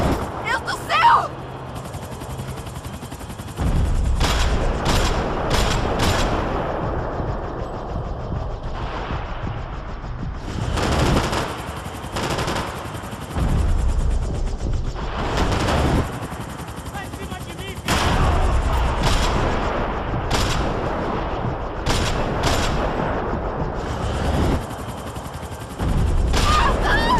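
Bursts of loud automatic gunfire and booming shots aimed at a helicopter in Max Payne 3, with rotor noise and shouting voices between volleys in a chaotic firefight.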